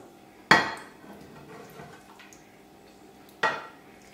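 Chicken pieces and butternut go into a metal marinade tin, with two sharp, loud clanks of metal and cutlery a few seconds apart and soft shuffling and scraping between them, with no talking.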